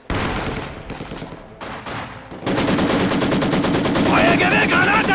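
Machine gun fire in the video game Company of Heroes 2, a 3v3 multiplayer battle, starts as choppy bursts and then settles into a loud, sustained rattle over battlefield noise and game voices.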